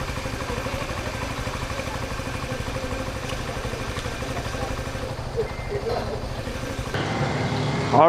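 A motorcycle being ridden inside the Subic Bay Freeport zone, its engine a steady mid-pitched drone throughout, with a shift in tone and rising noise near the end.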